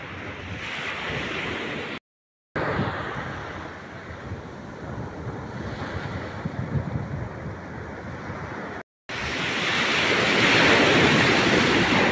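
Ocean waves breaking on Tando Beach in Infanta, Quezon, a continuous loud roar of surf with rolling swells and wind buffeting the microphone, briefly cut off twice.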